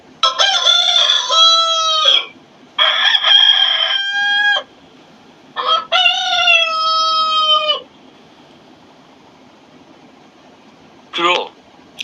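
A rooster crows loudly and close, three long drawn-out calls in quick succession, with a short fainter call near the end and quiet in between.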